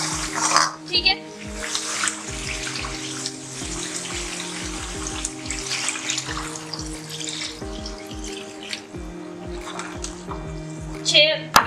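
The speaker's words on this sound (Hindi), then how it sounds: "छह गिलास पानी हमने डालना है शोरबा देने के लिए" Water is poured steadily into a pressure cooker of mutton for the broth of a taro root gosht curry, a continuous gushing splash running throughout over a steady tonal backdrop.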